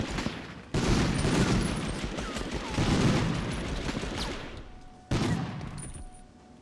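Submachine gun fire in the PS1 game Medal of Honor, heard as dense bursts of rapid shots that swell and fade across the clip, loud and continuous with no speech over it.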